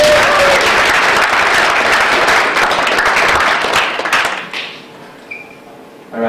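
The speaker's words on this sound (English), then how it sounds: "Give her a round of applause." An audience at an entrepreneurship seminar claps in dense, loud applause for several seconds before it thins out and fades to quiet.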